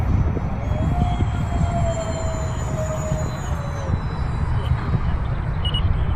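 An E-flite A-10 Thunderbolt II model jet with twin 64mm electric ducted fans flies on its maiden flight, making a steady, loud rushing roar topped by a high, slowly shifting whine, with outdoor wind noise throughout.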